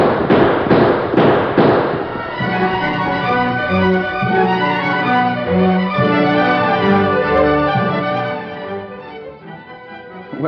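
Sound-effect gunfire in a 1944 Lone Ranger radio drama shootout: a rapid burst of sharp shots at the start, then dramatic orchestral music swells and carries on loudly to the end.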